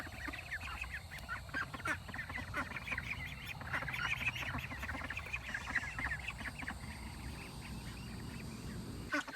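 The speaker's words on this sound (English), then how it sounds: "I don't remember those ducks being white, though" A dense chorus of duck quacks and poultry clucks overlapping continuously at moderate level with steady background noise, no one speaking.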